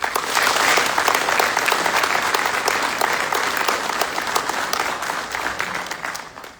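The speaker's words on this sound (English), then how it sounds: "please join me in a round of applause showing our appreciation for the families" Applause at an Army basic training graduation ceremony honouring the families, a loud, dense crowd of clapping with sharp individual claps standing out, sustained for several seconds before fading at the end.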